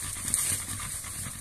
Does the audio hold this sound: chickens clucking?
no